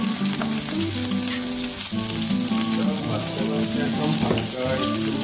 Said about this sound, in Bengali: তো এটা আমরা ততক্ষণ একটু ভেজে নেব, যতক্ষণ এটা একটু গোল্ডেন ব্রাউন কালার এসে যায়